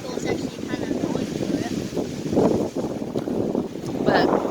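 Strong wind at the ocean shore buffets the microphone in gusty rumbling surges, with the wash of waves behind and a voice talking faintly at times.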